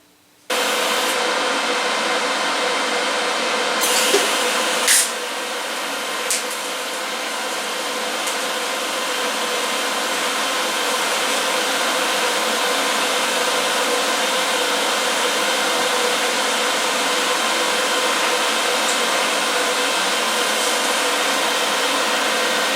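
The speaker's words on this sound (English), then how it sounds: "Just trying to get a tack weld on there to start with." Pulse MIG welding at about 150 amps with ER70S6 wire, tacking Ford 9-inch housing ends onto a Ford 8.8 differential: a steady, loud, continuous buzzing hiss that holds for over twenty seconds, with a few brief pops near the start.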